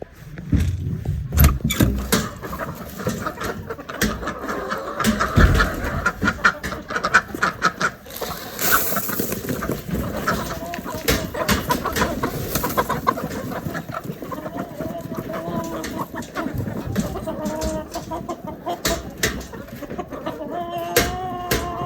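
Farm chickens cluck and squawk steadily at feeding time, a busy flock close by with occasional louder calls and faint background noise throughout.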